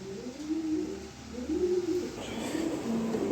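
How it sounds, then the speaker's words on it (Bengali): A pair of cream-bar pigeons coos in soft, repeated low calls, close by and fairly quiet against a faint background hum. "এই যে দেখেন এক পেয়ার সুপার কোয়ালিটি ক্রিমবার কবুতর আছে"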